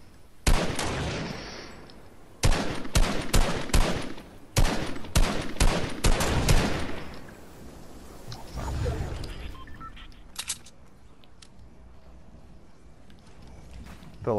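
Loud sharp rifle cracks from Fortnite, fired in a quick irregular volley of separate shots with a brief lull, followed by fainter scattered noise and a few distant pops.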